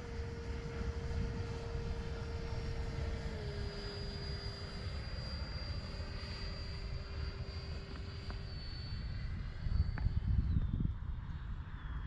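An X-Fly Alpha electric ducted fan RC jet with an 80mm fan flies past, a steady whining fan tone that shifts pitch as it passes, fairly faint over a rumbling outdoor background.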